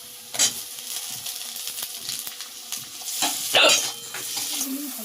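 Tomato tipped into a pan of frying aubergine and onion curry, a continuous close sizzle broken by a few sharper bursts and clinks of a spoon, with a faint voice low in the background.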